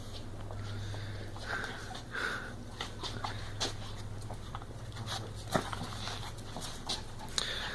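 Dogs shuffle and sniff nearby with soft whimpers and faint paw taps over a low background hum, no barking.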